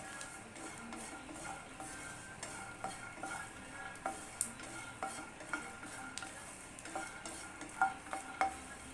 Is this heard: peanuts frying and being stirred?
yes